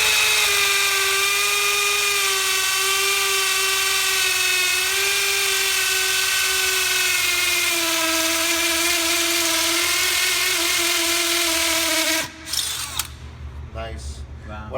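DeWALT DCD996 second-generation brushless three-speed drill motor bearing down while drilling, a loud sustained whine that slowly drops in pitch under load before cutting off into clattering, with voices talking near the end.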